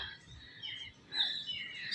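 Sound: sparrows chirping

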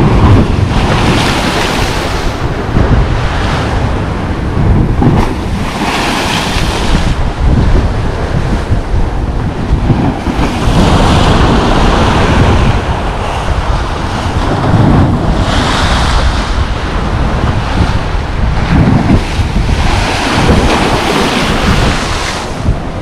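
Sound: big sea waves on the beach at Lazarevskoye

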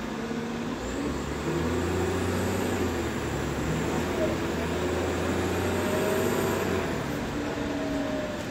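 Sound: Cummins ISL diesel engine of STM Novabus LFS bus

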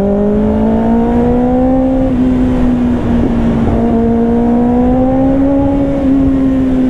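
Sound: Kawasaki ZX6R motorcycle engine revving with titanium exhaust

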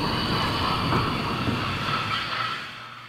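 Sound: CP Rail freight train passing

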